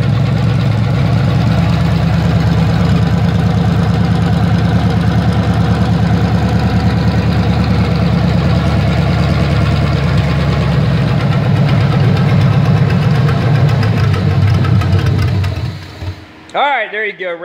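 A $30 Craigslist small block Chevy engine runs loud and close with a rough, steady idle throb, then stutters and dies as the carburetor runs dry, leaving brief sputters near the end.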